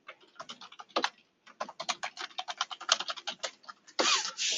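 Rapid typing on a computer keyboard while writing a Slack message, with dense irregular clicks and a brief pause, then a louder burst of keys near the end, close and clear.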